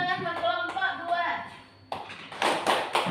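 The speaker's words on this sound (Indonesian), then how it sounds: "kita beri tepuk tangan buat kelompok 2" A classroom claps for a student group after its presentation. Brief applause and tapping comes in after talk, with a voice continuing over it.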